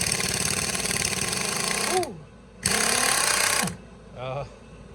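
An air-powered impact tool runs off an undersized compressor to remove a bolt, giving two loud close hammering bursts separated by a brief pause, with a short hiss of air and a voice speaking briefly toward the end.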